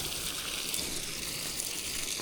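Garden hose water gushing steadily onto a pile of hot biochar being stirred, a continuous hissing wash of spray that holds at an even level throughout.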